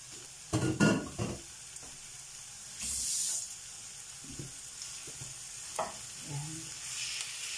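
Minced beef sautés in a pan for chili con carne, with a steady low sizzle broken by repeated scraping stirs and a few louder clattering strokes of the spatula.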